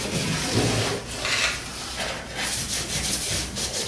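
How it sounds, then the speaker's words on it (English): A Scotch-Brite pad scuffs a car body along the seams before seam sealing, giving a steady, close, raspy rubbing in strokes of fairly even loudness that continues alone for a few seconds. "Now we're gonna hit it with a little Scotch Brite, and you know, we're just hitting where we're gonna put the seam sealer."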